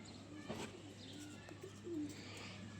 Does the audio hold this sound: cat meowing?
no